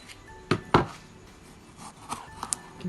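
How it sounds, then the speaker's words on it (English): A knife splits chilies in half on a cutting board, giving two sharp, close chopping knocks followed by a few lighter taps and board scrapes, quiet overall with no talking. "Cut the chilies into half, or split the chilies."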